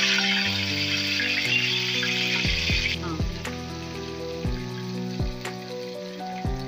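Garlic ginger paste goes into a hot pan for fish curry and hisses with a bright frying sizzle for a few seconds before fading, under steady background music.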